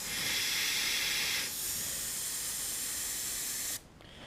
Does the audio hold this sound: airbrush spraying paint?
yes